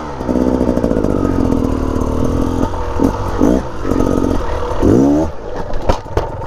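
A motorcycle revs and accelerates hard in repeated bursts, the engine note climbing and dropping several times up close, with clattering mechanical noise between pulls.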